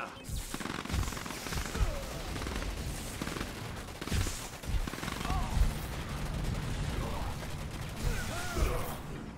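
A tank division opens fire in the Command & Conquer 3: Tiberium Wars real-time strategy game, loud repeated cannon blasts and crackling gunfire bursts layered over battle noise, with scattered game voice callouts in between.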